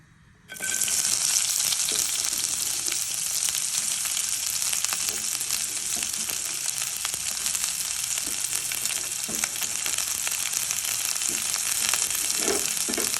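Vegetables for a paneer wrap fry lightly in oil in a pan over a low flame, giving a steady close hiss and sizzle that begins abruptly and holds, broken by occasional soft stirring clicks.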